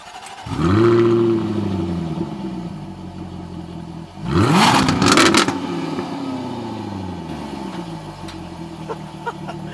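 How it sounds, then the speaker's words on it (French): A Jaguar F-Type R with a 575-horsepower V8 fires up close by, rising to a loud rumbling idle, then a second sharp roaring blip of revs settles into a deep, steady burbling idle. "Je vais vous faire écouter quand je démarre le son du V8."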